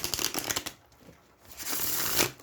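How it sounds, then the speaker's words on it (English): Tarot cards riffle and shuffle in two quick, close bursts with a brief pause between them, crisp papery flutters with no talking. "well shuffled before we get into the reading."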